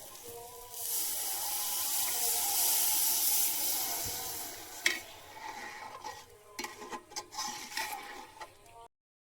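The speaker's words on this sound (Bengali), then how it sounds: "ফোড়ন আমি খুব একটা ভাজবো না, হালকা ভেজে আমি জল দেবো" Tempering spices for khichuri fry lightly in a pot with a quiet hiss, then water goes in, bringing a burst of bubbling and uneven splashy stirring sounds before it stops abruptly.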